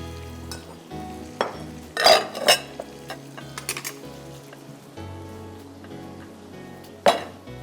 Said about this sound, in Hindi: दो मिनट इसको मैं फ्राई करूँगी।